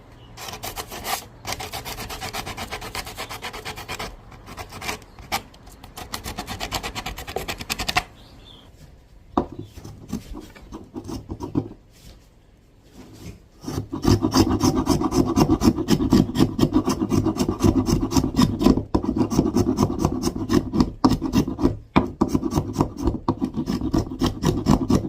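Close, steady rasping strokes of sanding work on a wooden ledge of a skin-on-frame SUP board frame, with a quieter pause midway before a dense, continuous run of scraping resumes. No talking.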